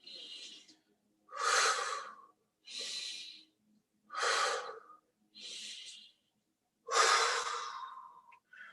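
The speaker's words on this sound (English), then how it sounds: "Breathing in." Six separate breaths during a meditation session, each a breathy rush lasting about a second with short pauses between them, the last one longer and stronger. The breaths are close and clear and there is no talk.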